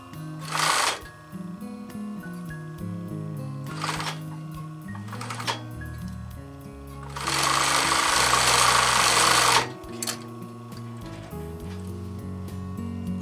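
A sewing machine stitching and backstitching fabric over elastic for a sturdy bag holder, with several loud bursts of stitching separated by pauses and a long steady run near the middle, close and with no voices.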